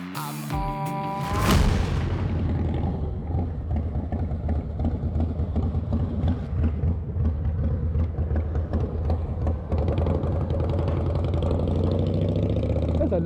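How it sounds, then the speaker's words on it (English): Motorcycle engine rumbles loudly and continuously at close range, with a sharp burst at the start then a steady throbbing idle and slight revving, heard over wind noise with a voice underneath. "That's a nice sounding bike."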